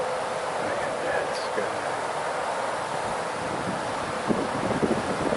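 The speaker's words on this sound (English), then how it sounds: "And that wind is pushing right in my face." Steady wind blowing outdoors at night under starry, cold skies, a constant broadband rush with microphone buffeting close by, continuous throughout with faint rustle and brief louder gusts near the end.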